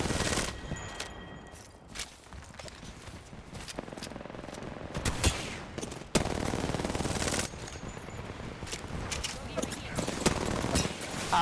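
Sustained automatic gunfire in the video game Killspree, dense bursts of shots crackling on and off for several seconds amid game noise, with a voice talking faintly at times.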